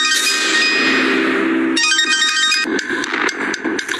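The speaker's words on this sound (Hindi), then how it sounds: "फिर उसके मोबाइल पर विक्रम का फोन आया" A mobile phone sounds a loud, bright ringing tone of clanging electronic notes, shifting into a busier tonal pattern partway through, with no talking.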